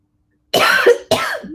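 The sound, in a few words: coughing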